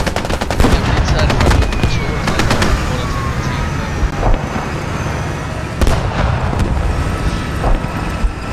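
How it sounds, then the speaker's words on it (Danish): Squad battlefield gunfire: a rapid burst of shots opens, followed by scattered single blasts and crackling fire over a constant rumbling combat bed, with faint voices in the background. "Det var tanken, der skød."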